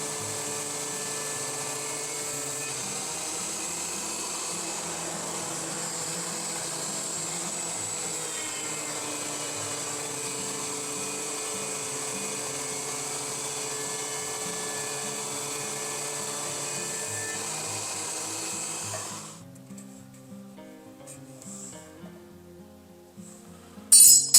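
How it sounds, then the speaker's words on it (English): Jointer and planer machining cherry wood legs, a steady loud machine whine running without pause for about nineteen seconds, then cutting off to a quieter tail with a few light clinks and a sharp knock at the end. "we're going to take it over to the jointer and we're going to flatten and square 2 edges"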